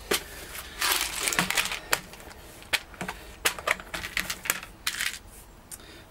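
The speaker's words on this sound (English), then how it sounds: "I'm going to put a couple of screws in now so you can see what I'm going to be doing" Screws being driven into the frame of a homemade solar oven, heard as a run of sharp, irregular clicks and ratcheting bursts close by, with short pauses between them and no talking.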